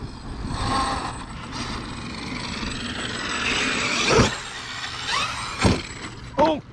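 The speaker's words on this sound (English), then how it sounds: "The mod 1 gearing is a bit, I don't wanna say annoying, but it's definitely loud." A Traxxas X-Maxx Ultimate RC truck fitted with loud mod 1 gearing whines and rattles close by, with its mechanical drivetrain noise swelling in bursts and sharp surges near the end.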